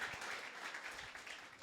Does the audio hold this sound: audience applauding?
yes